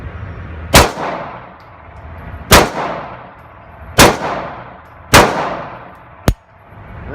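Five loud, close pistol shots from a Springfield Range Officer 1911 are fired about every one to one and a half seconds, each sharp crack followed by a ringing decay, with the last shot shorter and sharper.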